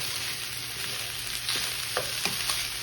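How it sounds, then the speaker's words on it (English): Fried rice sizzles steadily in a hot pan, close up, with occasional scraping stirs and small pops over the constant hiss. "You can hear it sizzling."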